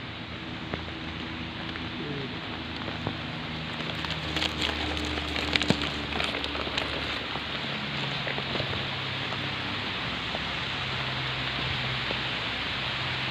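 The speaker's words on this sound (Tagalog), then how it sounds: "Umaambon na po ngayon." Steady, even hiss of light rain falling nearby, a continuous soft patter with no talking.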